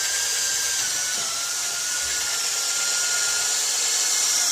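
Steady hissing power-sander drone working a cloudy, wet plastic headlight lens with compound, continuous and close throughout with no talking.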